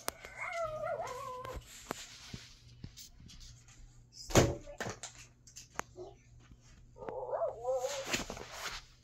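A pet dog indoors in a bedroom gives short yelps and whimpering, whiny vocalizations at the start and again near the end, with bumps and a sharp knock between, fairly faint.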